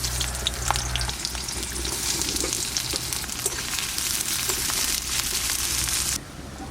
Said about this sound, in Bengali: পেঁয়াজ ভাজাটা তুলে নিচ্ছি,